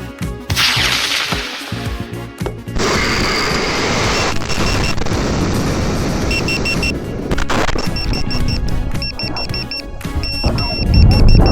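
A Marker 3 model rocket motor fires on an L1 certification launch, a loud broadband roar that starts abruptly, dips briefly, then surges on for several seconds with no voices.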